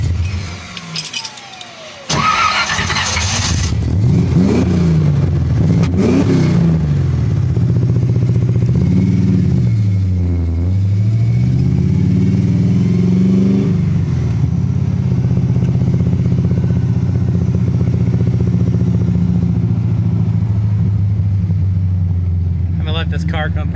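The engine of an EFI-converted AMX stumbles and hesitates while driving at low RPM. It gives a loud, close, wavering drone that rises and falls, with a sharp clatter near the start and someone talking over it.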